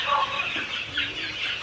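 Chickens cluck in a steady, overlapping chorus on a poultry farm raising good-breed chicks, moderately loud and close, with no clear pauses over a short stretch.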